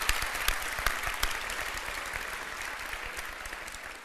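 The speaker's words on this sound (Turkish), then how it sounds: "Hayvanseverlerden bir alkış bekliyoruz burada." Studio audience applause on the Turkish television talk show Beyaz Show: a dense, steady wash of many hands clapping, loud and sustained, easing slightly toward the end.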